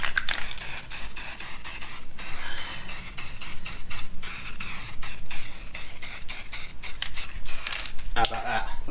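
Spray can hissing as it lays a second coat of primer on stripped parts and an axle for a Cologne V6 resto-mod, steady bursts of spray with brief pauses between passes, close and loud.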